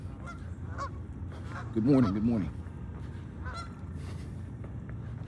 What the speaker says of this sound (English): look at these ducks